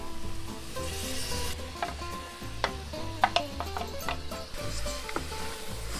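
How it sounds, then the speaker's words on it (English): Yogurt-marinated meat sizzles loudly in a pot for a Durban curry cooked aboard a sailboat, a dense close hiss punctuated by several sharp spoon clanks and scrapes against the pot. "So I'm going to dump it in here and fry it."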